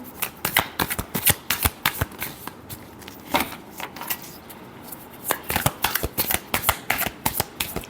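Tarot cards are shuffled by hand in a rapid run of crisp riffling bursts, close and loud, with a short pause midway before the flurry resumes.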